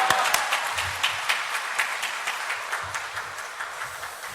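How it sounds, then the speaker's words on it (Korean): A church congregation claps to welcome the pastor, light scattered hand claps with some irregular, sharper individual claps, moderately distant and fading slightly. "우리 할렐루야와 함께 큰 박수로 맞이하겠습니다"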